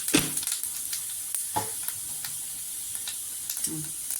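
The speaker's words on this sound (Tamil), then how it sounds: "எண்ணெய் காஞ்சிச்சு, கொஞ்சோண்டு சோம்பு போட்டுக்கலாம்." Fennel seeds dropped into hot oil in a pan, giving a steady close hiss of sizzling with a few sharp stirring clicks, moderately loud and without talk, while cooking a mushroom dosa.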